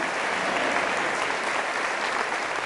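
A large audience at a Catholic preaching event applauds in a thick, even wash of clapping, fairly distant and continuous across the whole stretch.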